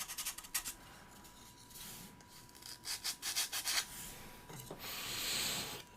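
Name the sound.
sanding a 3D printed pinball part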